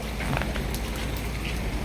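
Steady rain from a typhoon patters on a surface nearby at a transport terminal, a dense continuous hiss with scattered droplet taps.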